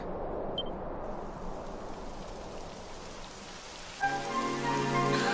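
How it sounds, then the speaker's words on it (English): Steady rain pours down with a dense hiss in the video game Dragon Quest XI S, joined near the end by a brief rising tone and faint musical notes. "It would have to go and start raining, wouldn't it?"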